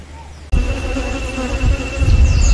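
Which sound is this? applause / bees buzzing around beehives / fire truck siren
bees buzzing around beehives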